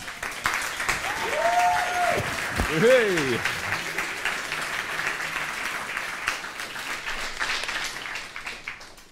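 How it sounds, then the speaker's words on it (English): An audience at a live talk and performance event bursts into warm, sustained applause, a dense wash of clapping that carries on steadily, with a short vocal call and some talking mixed in. "So I would say warm applause."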